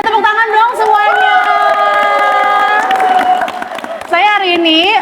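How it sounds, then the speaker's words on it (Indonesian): A crowd cheers and shouts with sustained, high-pitched voices over a continuous roar of clapping, loud and close throughout, with a brief dip before the cheering swells again near the end. "Tepuk tangan dong semuanya."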